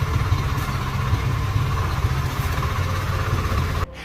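A heavy, fully loaded GN tractor hauling logs down a steep, muddy path, its engine chugging in a steady low rumble with a vibrating drone, close and loud, cutting off abruptly at the end.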